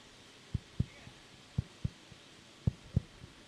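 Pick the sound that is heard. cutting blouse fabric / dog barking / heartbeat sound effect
heartbeat sound effect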